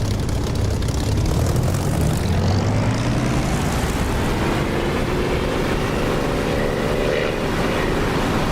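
Propeller aircraft engine in the DCS flight simulator spooling up for takeoff, a loud continuous drone whose pitch rises steadily throughout, with no talking.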